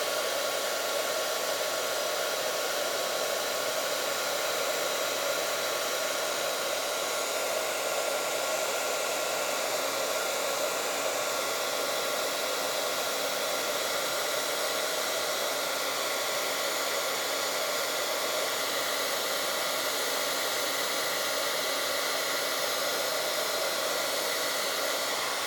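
Heat tool blowing hot air over ink on watercolor card, a steady, loud whooshing hiss that runs unbroken for the whole stretch with no voices.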